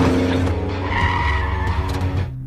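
Tires squeal loudly as a car skids while trying to run a man down, and an engine roars underneath. The screech is close and sustained, then fades slightly at the very end.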